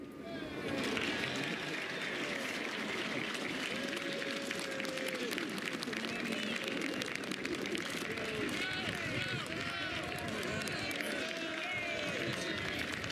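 A large crowd applauds steadily outdoors at the 2013 U.S. presidential inauguration ceremony, a dense, continuous wash of clapping and cheering heard from a distance, with a commentator's voice over it.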